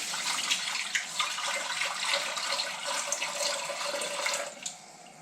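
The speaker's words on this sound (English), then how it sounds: "So I'm going to add a little bit more water to this." Water pours steadily into an All-American pressure cooker, a continuous splashing stream that fills the pot toward a couple of inches deep, close and fairly even throughout.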